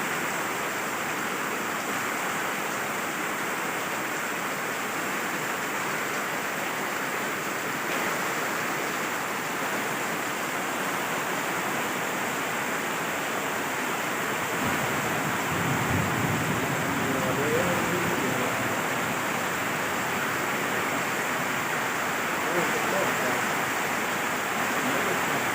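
Water pouring in a constant rushing stream, a dense even hiss that barely changes over about twenty-five seconds, thickening a little in the low end partway through.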